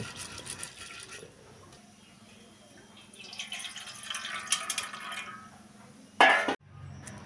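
Large-grain sago pearls are rinsed in water in a kitchen bowl: soft, quiet swishing and trickling, followed by a brief, sharp splash near the end.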